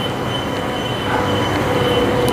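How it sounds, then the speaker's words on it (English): A train rumbling loudly nearby as it pulls away, with a steady metallic hum and faint wheel squeal over the low roll. "So we'll just see this train off."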